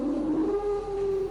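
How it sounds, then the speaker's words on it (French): Mechanical, elephant-like moans from the film The Elephant Man: a loud, wavering, siren-like wail that slides downward and then holds a long sustained tone, heard alone without speech. "on entend des gémissements semblables aux cris d'éléphants mécaniques"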